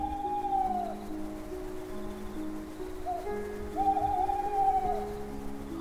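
A faint, distant owl hoots at night over a steady background hum, with a few soft repeated calls separated by pauses.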